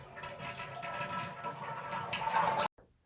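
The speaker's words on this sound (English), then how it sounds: "I'm gonna flush the toilet and hold it down until all the water is drained out." A toilet flushes with the handle held down, water rushing and draining steadily for nearly three seconds before cutting off abruptly, followed by a faint trickle.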